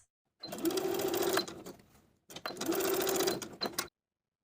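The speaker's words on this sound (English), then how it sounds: "I'm going to stay stitch the top corners of the ruffle area" A sewing machine stay stitches the top corners of pajama shorts in two short runs of rapid whirring with a brief pause between them, close and clear with no talking.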